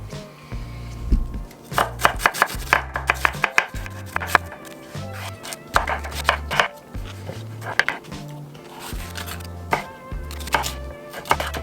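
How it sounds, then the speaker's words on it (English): Rapid knife chopping of vegetables for a salad on a cutting board, a quick run of sharp taps in bursts, close up over a low steady background hum. "I'm gonna chop those up really quickly for a salad"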